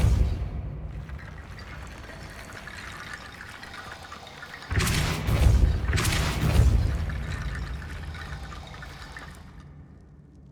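A Depulso force spell in Hogwarts Legacy strikes with a loud rushing burst that swells twice over a few seconds and then decays back to a quiet background hum.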